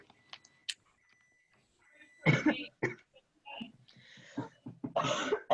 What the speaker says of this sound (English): I'm coughing 24/7.